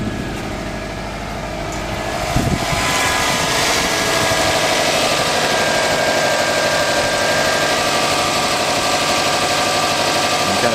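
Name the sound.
sports car engine idling with HHO cell off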